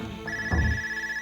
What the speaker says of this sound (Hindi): महलूस फोन कर रही है